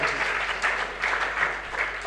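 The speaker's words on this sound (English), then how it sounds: "I think she deserves a round of applause." Audience at an international symposium applauding, a brief steady patter of clapping from a moderate-sized room, fairly close and even.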